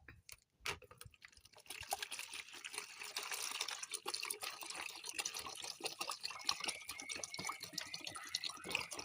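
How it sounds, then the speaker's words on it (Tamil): Water poured from a 1-litre can into an empty bucket, a steady splashing, trickling stream that builds after a brief pause and continues close and fairly loud to the end. "இப்போ இந்த 1 லிட்டர் கேனில் இருக்க தண்ணியை நம்ம இதில் ஊற்றிக்கலாம்."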